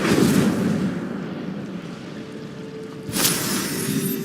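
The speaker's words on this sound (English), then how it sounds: "Incendio." A whooshing, roaring fire spell blast in Hogwarts Legacy, a sustained burst of flame noise with a brighter crackling flare near the end, fairly loud and without voices.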